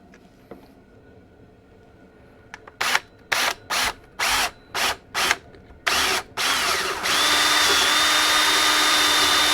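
A power drill bores a hole into an interior panel of a 2019 Subaru Crosstrek while a hatch release switch is fitted: about seven short, loud, evenly spaced bursts, then a steady continuous whir.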